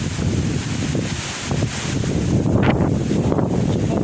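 Strong wind buffets a microphone on a mountain summit, a loud, continuous roaring rush with gusts that swell and fade, heard alone with no voices.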